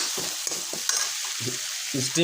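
Onion and green chilies fry on high heat in a pan, a bright hiss overlaid with repeated scraping strokes of a spatula stirring them around.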